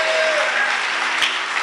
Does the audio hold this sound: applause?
yes